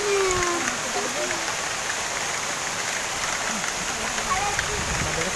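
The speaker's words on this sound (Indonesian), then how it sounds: "Terus guys, hujan." Steady rain falls outdoors at a sports complex, a dense, even hiss that persists throughout with faint voices in the background.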